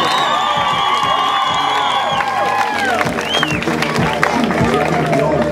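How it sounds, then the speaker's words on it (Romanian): An audience at an amateur K-1 kickboxing tournament in Hincesti, Moldova, applauds and cheers steadily, with dense clapping, shouts and whoops, and voices talking over the crowd. "Aplauze pentru acest băiat."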